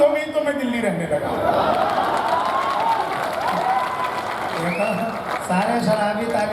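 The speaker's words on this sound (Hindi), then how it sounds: "सारे शराबी ताली बजा रहे हैं" A Kavi Sammelan audience at a Diwali fair in Lucknow breaks into sustained clapping mixed with chuckles and crowd noise, steady throughout, with a voice speaking over it.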